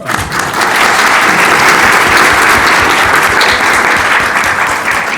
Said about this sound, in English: But I'd like a round of applause again for your leadership.